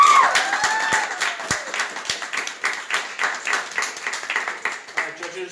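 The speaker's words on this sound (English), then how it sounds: "let's have another round of applause" A live audience gives a performer a round of applause, dense crowd clapping that swells and pulses rhythmically, fairly close, with voices and a few cheers mixed in over the claps.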